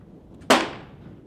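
A single muzzleloader rifle shot fired outdoors in windy conditions, one sharp loud blast with a quickly fading tail and no voices.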